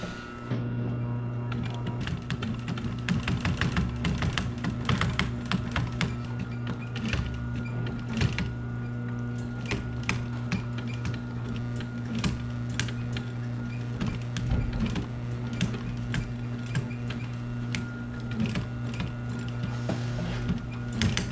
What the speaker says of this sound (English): this requires heavy needle and industrial machine because I'm going right through the wood and vinyl and foam